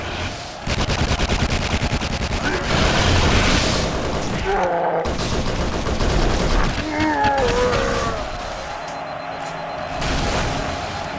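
Gunfire from a weapon in the video game Halo SPV3, dense rapid shots and booming bursts filling most of the clip, loud and close, with a brief gap midway and a voice talking over parts of it.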